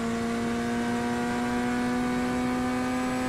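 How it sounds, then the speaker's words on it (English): A Corvette race car engine with a flat-plane crank, driven in the iRacing simulator, holds a steady, loud, buzzing drone at constant revs for a few seconds, with no voices. "Not a huge fan of the engine sound. It's a flat plain crank."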